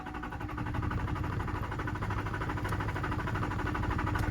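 A Duramax diesel engine turns over and runs with a steady, low mechanical chug and a constant rumble. The sound is moderately loud and even for the whole stretch, with no talking.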